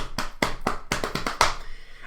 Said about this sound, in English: But I might start with that clapping pattern